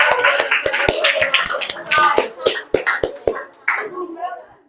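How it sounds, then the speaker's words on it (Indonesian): A few people in a classroom clap to applaud three students, a brisk burst of close hand claps mixed with voices that fades out near the end. "Kita beri aplaus buat mereka bertiga."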